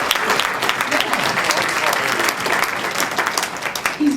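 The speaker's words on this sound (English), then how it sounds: "Yes, you can give him a round of applause." An audience at a celebration gives a dense, loud round of applause, a continuous wash of many hands clapping with some crowd noise, sustained for several seconds.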